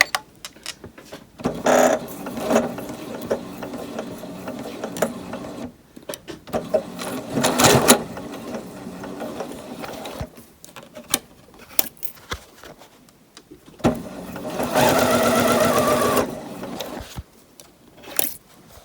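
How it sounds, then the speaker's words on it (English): Sewing machine running in bursts as it stitches pleat lines across a fabric face mask, with short pauses between runs and a long steady stretch near the end. "Now we're going to sew along our pleat lines here."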